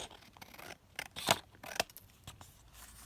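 Scissors cut down a paper journal card in a few crisp snips, close and moderately quiet, with soft paper rustle between the cuts and no talking.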